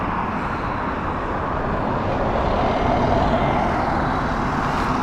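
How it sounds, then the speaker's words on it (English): An Air Canada Boeing 787 airliner at Heathrow Airport gives a low, steady engine rumble at moderate distance, even and unbroken, with no voices. "And behind that a Air Canada 787."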